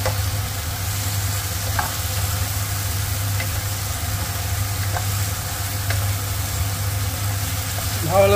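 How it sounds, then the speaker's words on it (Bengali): Bottle gourd fries in oil in a pan with panch phoron, bay leaf, and dried and green chillies, a steady close sizzle over a low hum with occasional stirring scrapes. "পাঁচফোড়ন দিয়ে, তেজপাতা, শুকনো লঙ্কা, কাঁচা লঙ্কা দিয়ে লাউটাকে ভালো করে ভেজে নিতে হবে।"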